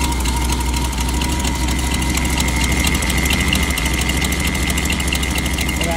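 Buick 225 engine fitted in a vintage CJ2A Willys Jeep, running loud and close with a steady rhythmic mechanical chatter as the RPM climbs.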